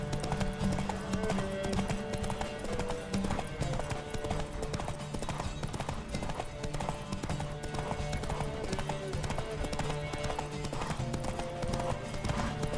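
Rapid, steady hoofbeats of a galloping horse in The Witcher 3 pound on without pause, loud and near, layered with game music and ambient noise.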